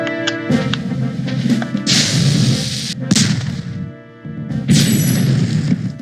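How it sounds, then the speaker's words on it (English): Cannons firing in the video game Spyro the Dragon: several heavy booming blasts with crashing tails, set over looping game music and effects. "here's the other cool thing about these cannons"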